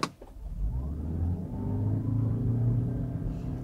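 A 2019 Toyota Prius AWD pulls away hard from a stop at full throttle, its engine note rising into a steady droning rumble that builds over a few seconds, heard from inside the car with no talk.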